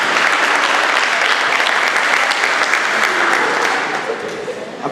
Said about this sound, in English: Round of applause right there.